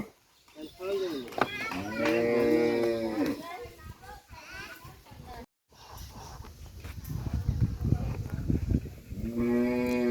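A five-month-old calf moos several times, loud and close, with people talking and children's voices around it.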